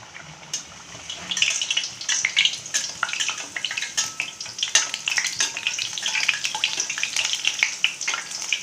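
Dough balls fry in hot oil with a dense, crackling sizzle full of sharp pops and spits, steady and close throughout with no voices.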